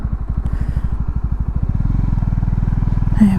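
A motorcycle engine chugs loud and close with a steady pulsing rhythm, rising in pitch as it revs. Passing bikes on the road may be blended into the sound.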